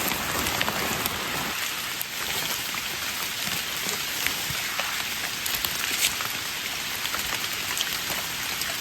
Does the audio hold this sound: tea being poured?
no